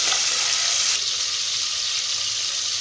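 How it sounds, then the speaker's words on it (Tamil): Onions and tomatoes sizzle loudly in a hot pan, a steady, dense hiss of frying close up, with no talking. "வெங்காயம் ஓரளவுக்கு நல்லா வதங்கினதும் சின்ன சைஸாக தக்காளி பழம் சேர்த்துக்கலாம்."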